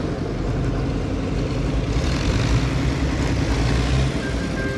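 A tractor engine at a Christmas charity tractor run with Santa hats rumbles steadily and fairly loud, a continuous low drone mixed with outdoor noise and no speech.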